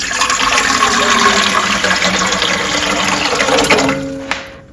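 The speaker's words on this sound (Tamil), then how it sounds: "இட்லி பாத்திரத்தில் இப்போ தண்ணி ஊற்றிடுவோம்" Water pours steadily and loudly into an idli cooker pot in a home kitchen, a continuous splashing rush that fades near the end with a faint ringing tone.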